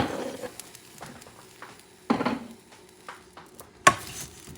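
Spanish rice with sardines is stirred in a pan, giving close scraping and rustling strokes with a couple of louder utensil knocks against the pan over a soft background.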